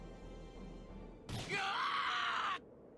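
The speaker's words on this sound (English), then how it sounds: "Yo, what a scream." A character in the video game Tales of Hearts R lets out a loud, strained scream lasting just over a second, rising out of quiet background music and cutting off abruptly.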